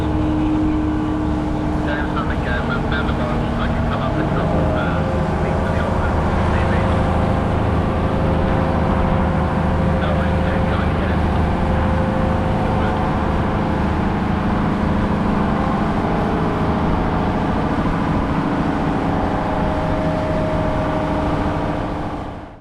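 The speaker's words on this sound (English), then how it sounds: "Listen to the engine growl as it winds up." An M231 diesel hydraulic shunter at a railway yard pushing a carriage off a weighbridge, its engine growling loudly and steadily as it winds up, a sustained close rumble throughout.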